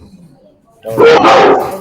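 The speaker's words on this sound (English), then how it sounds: "I'm so sorry if you guys heard my dogs barking." Dogs barking at home, a loud close burst of barks that starts abruptly after a quiet moment, with a person talking briefly.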